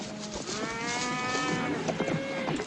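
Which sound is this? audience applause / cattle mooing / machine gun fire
cattle mooing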